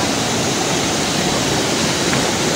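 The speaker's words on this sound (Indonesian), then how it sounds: "Sungai." A river rushes at the Curug Marantangga waterfall. Its loud, steady broadband roar of flowing water runs continuously through the clip, with no voices.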